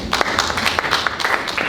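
Audience applause after a talk at a 2022 Siena event, a dense wash of many hands clapping at a steady, moderately loud level for a short stretch with no voices over it.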